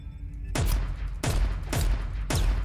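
Four loud, evenly spaced gunshots ring out from a squirrel's gun in Squirrel with a Gun, each a sharp booming crack with a trailing decay, alone without talk.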